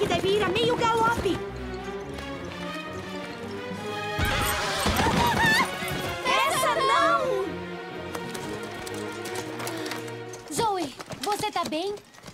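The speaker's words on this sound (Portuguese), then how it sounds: "Aí vem a Zoe! Ela tá galopando!" A cartoon horse gallops at a canter with hoofbeat clip-clops and a loud whinny, mixed under animated dialogue and background music.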